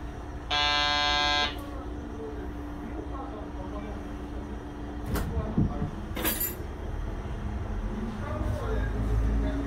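A single steady electronic train door buzzer on a Kanto Railway train sounds for about a second near the start, followed by quieter rail noise with a couple of brief high metallic squeals.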